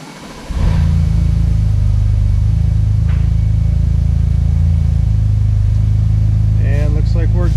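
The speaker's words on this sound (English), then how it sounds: "now it's time to start the car and make sure everything works" A BMW F-series car engine cranks and catches, then settles into a loud, steady idle up close, with a brief voice near the end.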